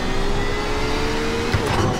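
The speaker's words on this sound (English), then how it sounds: "the car itself is very loud" Race car engine in the iRacing sim during a night practice run at Sebring, a loud, continuous engine drone at steady pitch with a slight rise in the final half second, no voices.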